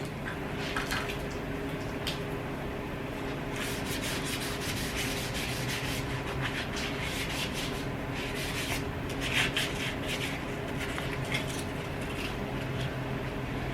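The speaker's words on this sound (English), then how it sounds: "Start to wet sand all my parts." Wet sanding of gas pump parts during a Sunoco pump refurbishment, a steady close-up rubbing and scraping with a slightly wet, gritty texture, continuous strokes with no talking.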